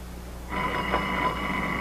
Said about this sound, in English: Go on, answer the phone.